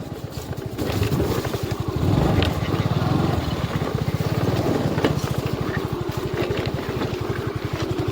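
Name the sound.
motorcycle engine riding an off-road track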